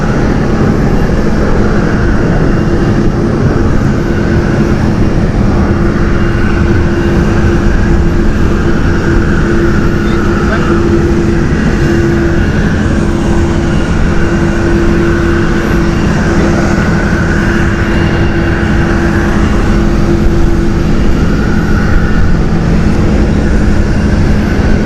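Finnair airliner in a special livery taxiing at Amsterdam Schiphol Airport, a loud, steady engine roar and whine that holds constant throughout, with no voices.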